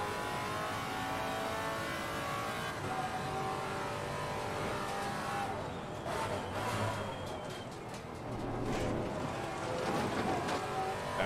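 Maserati MC GT4 race car engine in Assetto Corsa Competizione, a steady engine drone that rises and falls with revving, carrying on continuously at moderate loudness with a faint wind-like rush.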